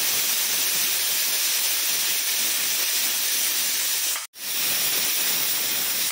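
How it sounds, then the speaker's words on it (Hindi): A pressure cooker cooking moong and masoor dal gives off a steady, loud steam hiss, broken once by a brief gap before the hissing resumes. "2 सीटी बजने तक हम प्रेशर कुकर को चलाएंगे"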